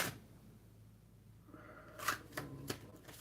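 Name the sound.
shuffling tarot cards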